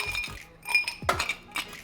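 Ice cubes tumble into a rocks glass while a whisky cocktail is being made, giving a few bright glassy clinks and rattles in short bursts, close and fairly clear with no talk.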